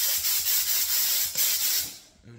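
A steady hiss of a spray gun spraying paint on bedroom walls, pulsing slightly with a low compressor rhythm beneath, then cutting off near the end.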